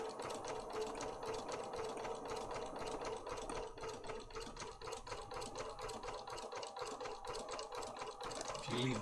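Close, rhythmic rattle of a sewing machine running a zigzag stitch, with the needle swinging side to side in fast even pulses throughout, fairly quiet.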